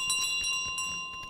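A small bell in Untitled Goose Game hums with a steady ringing tone under light jostling clatter, moderately loud and close.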